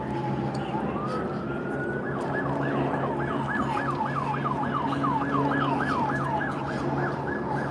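An ambulance siren wails in a fast rising-and-falling yelp, loud and steady over the rumble of passing traffic, at a crash scene after a police chase in Los Angeles.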